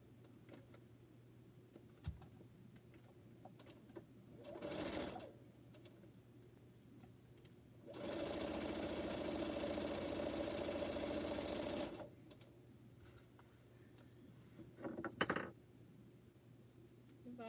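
A sewing machine stitches quilt pineapple blocks in short bursts, with a long steady run of fast humming stitching in the middle and quieter handling sounds between the bursts, close and with no talk.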